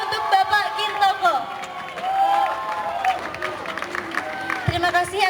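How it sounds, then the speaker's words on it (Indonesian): Audience claps and cheers at a school student council candidate debate, a broad wash of applause running under an announcer's voice over a loudspeaker. "Beri tepuk tangan yang meriah untuk Bapak Gintoko."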